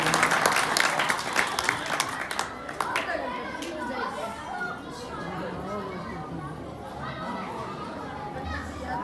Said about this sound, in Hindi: आप समस्त नगरी के नाम की जोरदार ताली बजा करके स्वागत